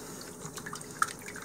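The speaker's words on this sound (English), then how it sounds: "And then I'm going to rinse them out" Morel mushrooms being rinsed in water: soft, close sloshing and trickling with a single distinct drip, faint and without talk.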